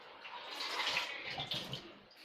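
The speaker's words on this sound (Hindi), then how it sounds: "इसमें पानी डाल देते हैं सबसे पहले" Water poured into a cooking pot in a home kitchen, a steady splashing rush running throughout at moderate loudness, with no talk over it.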